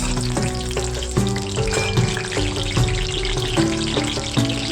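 Aubergine pieces sizzle steadily in hot oil while a spatula flips and stirs them, giving rhythmic scraping knocks against the pan every second or so.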